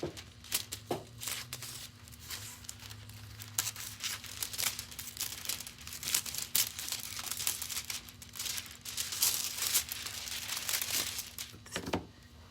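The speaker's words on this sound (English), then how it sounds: "I'm gonna take a piece of foil." A piece of aluminium foil is crinkled and handled up close, giving dense, irregular crackling and rustling bursts that continue throughout with brief louder crunches.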